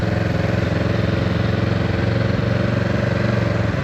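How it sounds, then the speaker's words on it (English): A motorcycle engine runs steadily and loudly throughout a ride, with a continuous close drone and a rough, pulsing low end and no voices. "Here, it's your first time riding a motorcycle"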